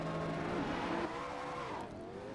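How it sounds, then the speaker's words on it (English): A Mercedes SLS AMG race car in a racing video game at Watkins Glen roars past, engine note sweeping and shifting pitch, with a brief tire squeal as it accelerates and fades slightly. "As the roar of the engine now can be heard, resounding off the walls of Watkins Glenn"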